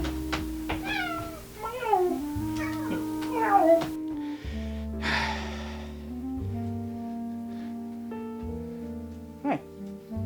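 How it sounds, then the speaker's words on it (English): A cat meows several times in close succession, rising and falling cries up close over a background of sustained musical tones, with a brief pause and a later short sound. "Already have to deal with a cat."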